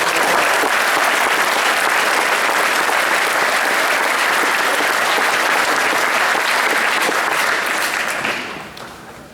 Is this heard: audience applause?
yes